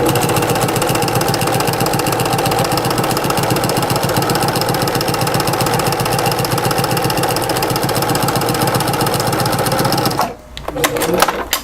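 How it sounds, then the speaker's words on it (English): A sewing machine stitches a French seam with a fast, steady mechanical whir and rhythmic needle clatter close by, then stops abruptly near the end, leaving a brief shuffle of handling noise. "And we start sewing."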